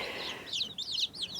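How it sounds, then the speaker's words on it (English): Baby chicks chirp from another room, giving a run of high, quick peeping calls in short repeated bursts over a soft background hiss. "They are chirping like crazy right now in the other room"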